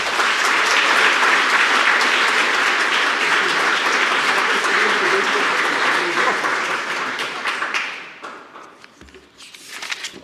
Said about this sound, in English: Let's give another round of applause to Mr. Thomas.